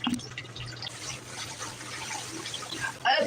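Real running water trickles and splashes in a steady, fairly quiet stream, with a low hum beneath it and a brief louder splash near the end.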